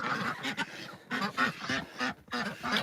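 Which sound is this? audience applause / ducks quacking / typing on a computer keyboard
ducks quacking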